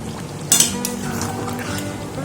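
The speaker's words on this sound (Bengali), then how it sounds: "মাংসটাও হচ্ছে মাঝে মাঝে নেড়ে দিচ্ছি একটু করে" A spoon stirs meat curry in a cooking pot with a short clink against the metal, then a steady soft sizzle and scraping carry on close by.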